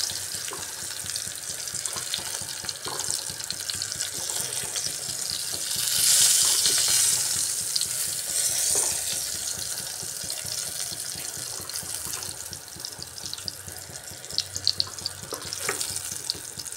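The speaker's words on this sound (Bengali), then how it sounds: "বেগুনটা একটু ভেজে দিলে ভালো হয়।" Eggplant pieces fry lightly in a pan for a thin potato-eggplant curry with rohu fish, giving a steady, close sizzling hiss that swells briefly midway and carries on without talk.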